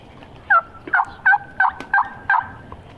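Wild turkeys calling in the woods: six loud, sharp calls in a steady rhythm, about one every third of a second, with quiet background between them and no talk.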